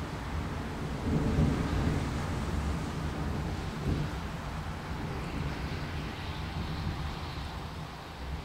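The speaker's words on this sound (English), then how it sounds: "Thunder, very weak." Weak, low, rolling thunder from a distant storm over Queensbury rumbles steadily beneath a constant wash of heavy rain, with a slightly stronger swell early on.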